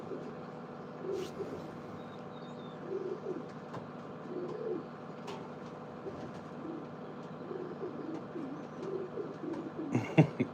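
Pigeons in a loft coo softly and continuously, their overlapping low murmuring calls forming a steady chorus with a few louder coos and faint rustles near the end.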